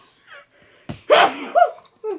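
A single sharp sneeze bursts out amid quiet breathy vocal sounds during a Tong-its card game, followed by a couple of short murmured noises.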